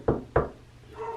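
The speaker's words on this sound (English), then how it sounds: "Knock on wood." Two sharp knocks on a wooden surface, close and distinct, spaced about a quarter second apart, followed by faint room tone.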